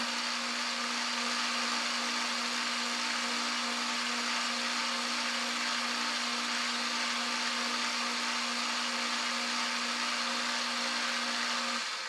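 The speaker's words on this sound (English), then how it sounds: "I'm just going to face off a little bit of 3/8" A metal lathe faces off 3/8 inch stock with a continuous, steady motor whine and a high cutting hiss, holding an even loudness throughout with no speech.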